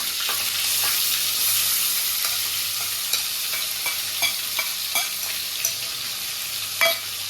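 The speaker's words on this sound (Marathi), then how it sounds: "आणि आपण ही आता हिरवी मिरचीची पेस्ट मध्ये ते टाकूया." Green chili paste frying in hot oil with cumin and curry leaves for potato patties, a steady close sizzle with occasional stirring scrapes and clicks of a spoon against the pan.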